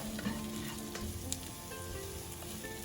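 Garlic and red pepper flakes sauté in a pan for a marinara sauce with a steady, gentle sizzle and crackle, moderately quiet and close, with no voices.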